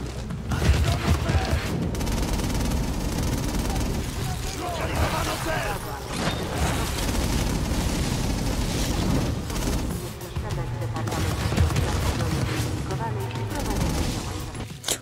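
In inFamous Second Son, enemy gunfire is aimed at the player in urban Seattle: scattered bursts and booming shots churn beneath someone talking excitedly throughout, with mechanical clatter mixed into the chaos.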